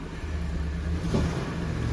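A food truck engine revs with a steady low rumble from inside the cab while driving, loud and continuous with a slight swell partway through.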